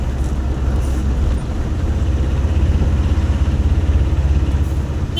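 A 14-wheel truck's engine idles with a steady low rumble and a throbbing, even pulse, loud and close, held up on a road near a market yard.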